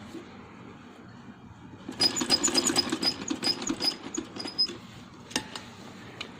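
A sewing machine stitches a V-shape on a handmade baby boy's dress in a quick rattling burst of a few seconds, followed by a couple of brief clicks in a quiet room.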